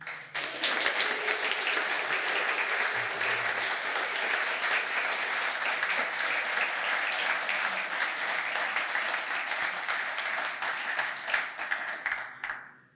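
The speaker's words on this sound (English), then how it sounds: "Let's applaud this fine organization, their past efforts and their future ones." Audience applause fills a banquet hall at a cycling and walking advocacy group's annual awards dinner, a steady dense clapping that holds loud and even for about twelve seconds before tapering off.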